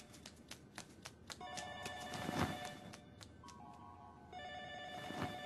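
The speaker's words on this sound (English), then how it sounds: "I can hear a phone ringing." A telephone rings repeatedly in the horror video game JU ON The Grudge, its electronic trills sounding in bursts over a dim, hollow ambience with a few knocking taps at the start.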